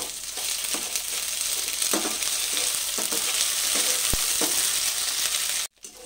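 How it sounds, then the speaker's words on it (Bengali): Ginger paste and tomato frying in a pan for chana dal, a loud continuous sizzle close by with scattered stirring scrapes and taps, cutting off abruptly near the end. "আদাটা দিয়েও একটু ভাজা ভাজা করে নেব"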